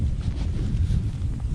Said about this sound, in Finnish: tuulinen keli.